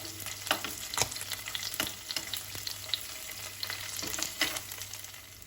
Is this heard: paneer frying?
yes